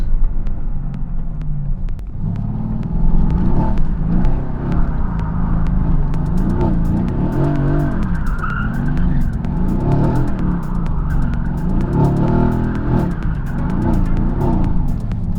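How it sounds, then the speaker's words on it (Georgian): A Mercedes-AMG GT's 690 hp engine roars and revs steadily while its tires spin and squeal against the pavement to warm up, loud and continuous throughout. "ვნახოთ ახლა ჩვენი საბურავები ცოტა ოპტიმალურ ტემპერატურაზე ავიყვანოთ"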